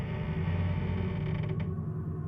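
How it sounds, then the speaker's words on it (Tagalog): A door slowly creaks open in a continuous, strained groan that holds steady and then fades, set against a dark, ominous backdrop in a spoken horror story. "narinig ko yung paglangit-ngit ng pinto na unti-unting bumubukas."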